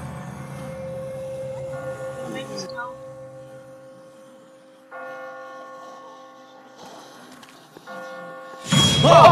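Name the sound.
church bells ringing in The Walking Dead video game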